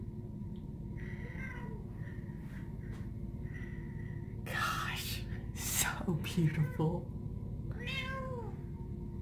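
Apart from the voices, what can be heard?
cat meowing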